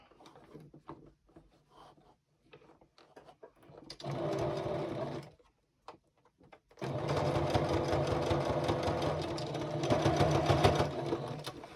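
Sewing machine stitching down binding on a gingerbread star quilted table topper: a short whirring burst, a pause with faint handling noises, then a longer steady run of stitching.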